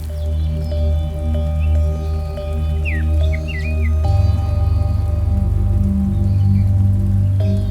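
Steady rain falls on grass and surfaces at the Karupalli crafts village in Sonargaon, a constant soft hiss that thickens after a few seconds, with sustained musical tones and a brief chirp in the background.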